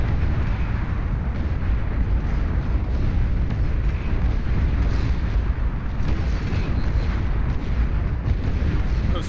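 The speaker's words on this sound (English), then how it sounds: "Those missiles are crazy." Continuous heavy rumble of missile explosions in the strategy game Beyond All Reason, a dense, unbroken roar of overlapping blasts with no clear gaps.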